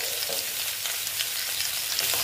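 Bitter gourd with pumpkin and potato frying in a pan as turmeric goes in, giving a steady, close sizzle with soft crackle that holds evenly throughout, with no talking.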